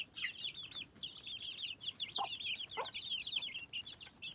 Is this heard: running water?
no